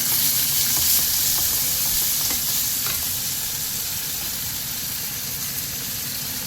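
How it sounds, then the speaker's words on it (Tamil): Onions sautéing in hot oil, a steady, close frying sizzle with light stirring clicks, gradually easing in intensity over several seconds. "ஒரு 2 வெங்காயம் போட்டு நல்லா வதக்குங்க"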